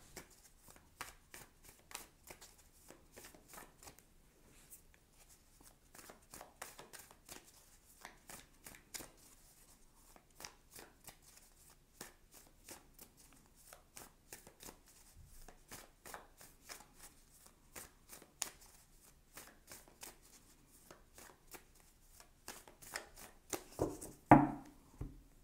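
Tarot and oracle cards shuffled and cut by hand, a long run of soft, close riffling flicks and taps in uneven bursts, ending with a few sharper handling knocks.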